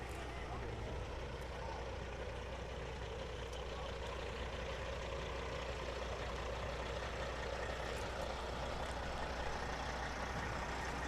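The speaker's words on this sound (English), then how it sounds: "Got a nice Kenworth here." A Kenworth semi from Borderline Express rolls through a small-town Fourth of July parade, its steady diesel rumble filling a continuous wash of outdoor crowd noise, moderately distant with no clear peaks.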